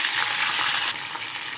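Curry leaves sizzling and frying in hot sesame oil with mustard seeds and urad dal for onion chutney: a loud, steady, close hiss with no talk.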